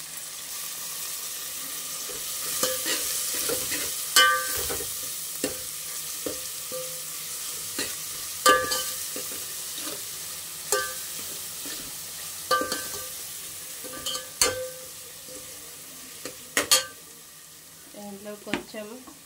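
Coriander and mint fry in oil for a spicy chicken curry, a soft steady sizzle punctuated by regular spoon scrapes and clinks against the pan, close and moderately loud.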